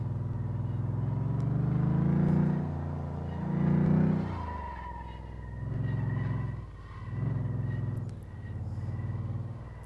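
A car in Car Mechanic Simulator 2015 revs and accelerates in repeated surges, its engine droning low and loud, rising and falling in several waves with gear-like pitch shifts.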